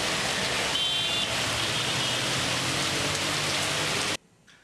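Light rain falls over a city as a dense, steady hiss of drops on surfaces, loud and close, then cuts off abruptly near the end.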